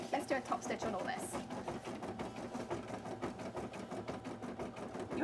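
A sewing machine top stitching cosplay fabric, a quiet rapid needle chatter running steadily, with a voice speaking faintly over it.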